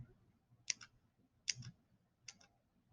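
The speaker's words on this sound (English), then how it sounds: "It's very satisfying cutting through the clay." Scissors snip through soft Model Magic clay, shaping a lion's mane texture: three crisp, separate cuts spaced under a second apart, close but quiet, with no talking.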